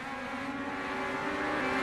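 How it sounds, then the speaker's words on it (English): Legend race cars roar past in a steady, loud, continuous engine drone, the high revving whine holding throughout with no talking. "Oh, the sound of those legend cars."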